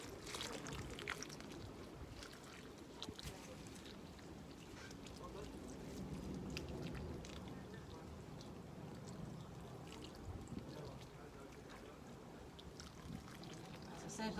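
Water poured onto soil in a newly planted long container, a quiet, steady splashing and trickling outdoors lasting many seconds, with faint background noise and no talk over it.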